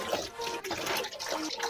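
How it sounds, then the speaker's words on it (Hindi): Water pours from an opened tap on a homemade geyser setup, a broad continuous splashing rush that dips briefly and resumes, fairly loud and close. "नॉल खोलते ही देखिए इससे पानी गिरने लगा है।"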